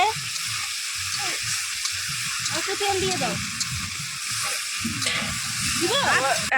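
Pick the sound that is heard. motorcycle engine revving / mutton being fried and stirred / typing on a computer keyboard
mutton being fried and stirred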